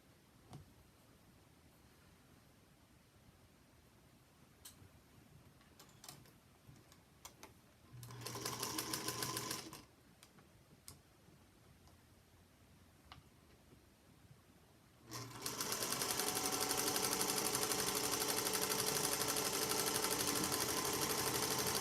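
Sewing machine stitching a quilt block seam, running in two bursts: a short run of about two seconds, then a longer steady stretch of close, loud whirring through the end, with no talking.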